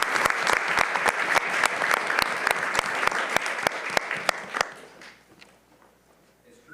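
Applause from a student government senate meeting for the newly chosen Senate Speaker and Vice Speaker, a dense steady clapping with sharp hand claps on top that fades out after a few seconds.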